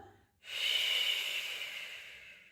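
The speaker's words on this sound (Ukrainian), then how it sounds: "Довдихнули через ніс. Видих через рот." A single long, breathy exhale through the mouth during a breathing exercise, starting abruptly after a short pause and then fading gradually, close and alone with no talk.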